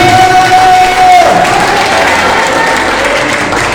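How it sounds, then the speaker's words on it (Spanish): A church congregation breaks into loud, sustained applause and cheering throughout, with a held tone fading early on and crowd voices mixed into the clapping. "Denle un fuerte aplauso a Jehová Dios en ese momento."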